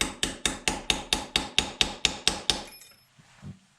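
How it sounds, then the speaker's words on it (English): A small jeweler's hammer taps a part into an AR lower receiver with a dozen quick, evenly spaced metallic strikes, close and crisp, then stops and leaves a faint low thump and quiet room noise. "Just with that jeweler's hammer, I was able to get that started."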